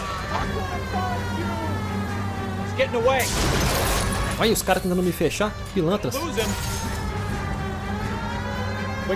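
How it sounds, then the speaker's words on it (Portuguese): Police siren wailing steadily through an L.A. Noire street race chase, loud and continuous with rising and falling sweeps, while someone talks excitedly over it. "o barulho da sirene tá meio alto, hein?"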